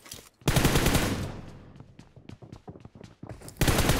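Mobile shooter gunfire in a close 1v1 battle, a loud sustained automatic burst that tails into a string of separate single shots, then another burst starts at the end.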